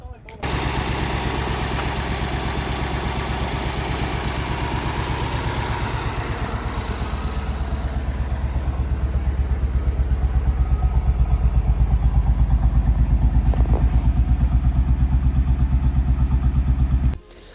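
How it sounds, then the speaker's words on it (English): A repaired BMW M4 engine, previously starved of oil, idles continuously up close with a steady, slightly rough pulsing rumble. It lifts a little in level toward the end before cutting off. "So the engine did sound a little rough on the start"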